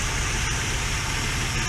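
A Mercedes 300TE W124 engine idles steadily right after a coolant system repair, with a continuous, even low rumble close by and no talking.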